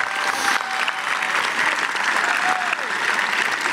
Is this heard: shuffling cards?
no